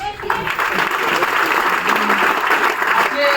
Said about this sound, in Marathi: जोरदार टाळ्या, जोरदार.